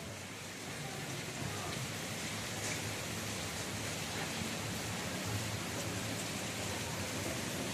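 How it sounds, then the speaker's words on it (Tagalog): Heavy rain pours down steadily, a dense, unbroken hiss that stays constant and loud for the whole stretch with no voices over it. "Nagkusog ang ulan."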